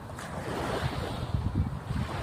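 Waves from the Arabian Sea wash steadily against the shore in Kuwait City, a continuous low rumbling surf mixed with wind buffeting the microphone.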